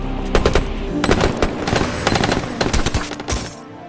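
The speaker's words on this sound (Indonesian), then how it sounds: "dia pun langsung dibrendel peluru oleh Charlie dan antek-anteknya." Machine gun fire in a film shootout, bursts of rapid loud shots ringing out in clusters over a low rumble, close and continuous before fading at the end.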